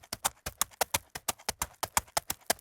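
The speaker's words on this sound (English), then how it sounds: "Rachel, add the horse sound effects." A horse clip-clop sound effect of hooves, a fast regular series of sharp knocks, loud and close, running steadily without talk.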